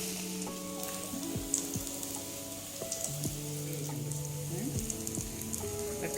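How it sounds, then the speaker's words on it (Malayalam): Unda pori snack balls deep-frying in hot oil, a dense continuous sizzle and crackle close by, with steady bubbling and occasional tonal clinks from the pan, no talking. "അതിനുള്ള എണ്ണ വെച്ചിട്ട് പൊരിക്കുക"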